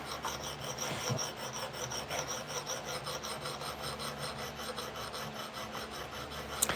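Steady, continuous rasping of a CPM Cruwear steel knife edge being sharpened on a stone, close and fairly even throughout with a small click near the end.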